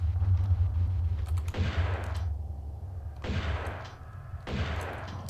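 Shotgun blasts at a snow leopard in Tomb Raider 2, three loud shots spaced about a second and a half apart, each with a ringing tail, over a steady low drone.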